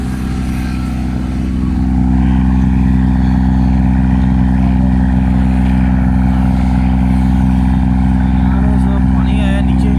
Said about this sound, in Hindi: माशाल्लाह अभी गाड़ी स्टार्ट कर दी मैंने। थोड़ी सी रेस ज़्यादा रखी हुई है इसकी।